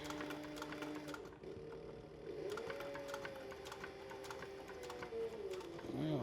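A sewing machine runs a long basting stitch, attaching piping to the side of a canteen purse, with a steady mechanical hum, rapid needle ticking and a few small clicks, fairly quiet and without talk.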